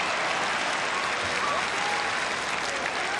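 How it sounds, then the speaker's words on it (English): Steady, dense applause from a large stadium crowd at an Australian football match between Geelong and Melbourne fills the whole stretch, a constant roar of clapping without breaks. "a big round of applause for the man they love here"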